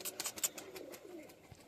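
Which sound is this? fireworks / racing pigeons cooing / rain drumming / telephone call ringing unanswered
racing pigeons cooing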